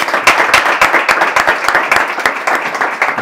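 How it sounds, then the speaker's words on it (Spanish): An audience gives warm applause to a speaker at a branding talk: a steady patter of many hands clapping close by for a few seconds, with no voices over it. "José se merece un aplauso"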